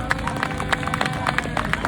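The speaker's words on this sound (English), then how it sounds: "Let's give Darren a round of applause" Audience clapping at a Stop Geoengineering rally, a steady dense patter of many hands throughout, close and fairly loud with crowd noise underneath.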